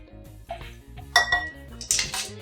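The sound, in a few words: whisking vegan blood orange donut batter in a bowl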